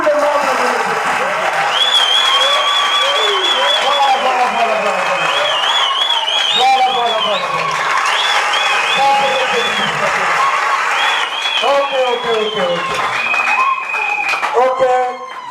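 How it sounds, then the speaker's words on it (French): A crowd at a political rally claps and cheers loudly over a dense, continuous wash of noise, with sharp whistles and shouting voices riding on top throughout. "vous avez entendu tout ça, on a applaudi pour vous"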